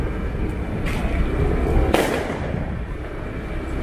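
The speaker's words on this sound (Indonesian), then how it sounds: "Masih ada yang masang kembang api." Fireworks set off on New Year's Day in an outdoor area crackle and pop with a sharp bang near the middle over a rumbling, noisy background, sounding at a moderate distance.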